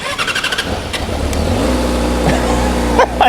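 A 2025 Yamaha R6 with stock exhaust cold starts: a few uneven cranking pulses, then the engine catches and settles into a loud, steady idle with a couple of sharp blips near the end.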